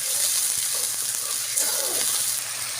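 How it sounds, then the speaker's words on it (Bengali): Spice paste cooking in a pan after water has been added, a moderate steady bubbling sizzle with a low hum underneath, heard close and without speech. "পানি দিয়ে আবার একটু কষতে থাকবো।"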